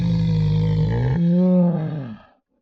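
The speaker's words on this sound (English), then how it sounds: "polar bear," A polar bear lets out one loud, deep roar that swells and then bends downward before stopping abruptly, close and heard alone.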